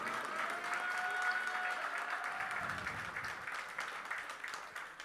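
An evening audience in Dubai breaks into sustained applause: continuous, fairly soft clapping from a crowd in a hall that slowly thins and fades, with a faint tonal whine lingering over the start.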